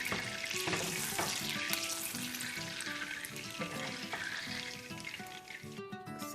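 Clarified butter, ghee-like, bubbles and sizzles in a pan as its water cooks off while making baklava, a steady close crackle with clinks of utensils running throughout.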